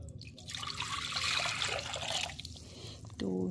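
Water pours into a container to make teriyaki sauce in a home kitchen, a soft, close trickle and splash that swells and then tapers over a few seconds, ending with a brief faint ringing knock.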